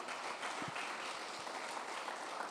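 A church congregation claps for the Lord, a faint but continuous spread of applause heard at some distance with a few low knocks within it.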